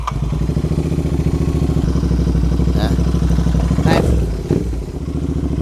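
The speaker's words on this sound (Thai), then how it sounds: "เสียงท่อโลเวลตัว 45 องศาครับ" A Royal Enfield Interceptor 650 motorcycle fitted with an angled 45-degree Lowell exhaust idles with a steady, throaty loping pulse close by, then gives a short, modest blip of the throttle partway through before settling back to idle.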